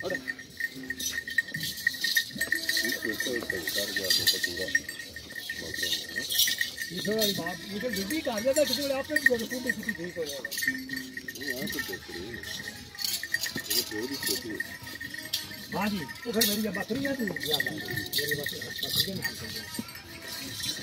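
Goats bleat in short wavering calls on a goat farm in Sanghra, some close and others further off, while people talk over them and faint clinks sound in the background.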